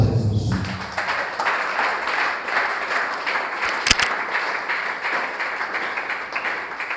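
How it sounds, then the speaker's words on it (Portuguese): Steady applause from a congregation in a church during a Sunday service, sustained throughout, with one sharp knock near the middle. "Palmas para Jesus."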